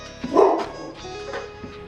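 A house dog barks once, loud and close indoors, followed by quieter yips and whines, with no talk over it.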